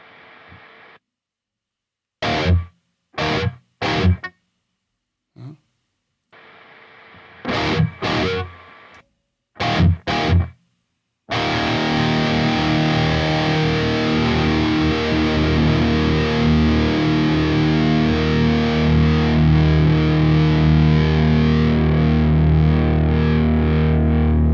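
Distorted electric guitar noise runs through an amp simulator with a noise gate: short bursts of harsh buzzing cut off into silence, then a long sustained wall of distorted chord noise, loud and close.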